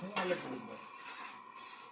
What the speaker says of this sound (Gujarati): વઘાર બેહાડી રહ્યા છે